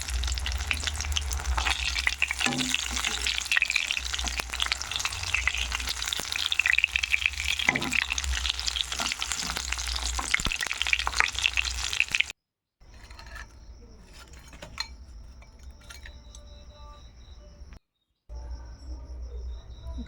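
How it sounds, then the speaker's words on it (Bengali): Radish pieces fry in hot oil in a pan and are slowly turned, giving a steady crackling sizzle with the scrape of stirring, which later drops to a quieter, sparser sputter. "খুব সুন্দরভাবে উল্টে পাল্টে ধীরে ধীরে ভেজে নেব।"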